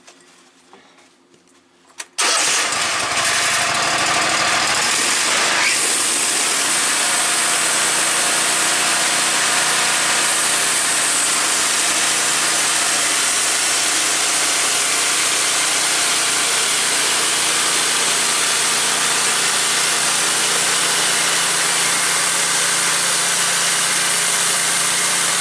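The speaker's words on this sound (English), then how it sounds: "I'm sorry if the camera's noise is loud from the mill" A Woodmizer LT15 sawmill rips white pine into lap siding, starting after a quiet moment with a sudden loud roar that settles into a continuous, harsh engine-and-blade drone close to the microphone.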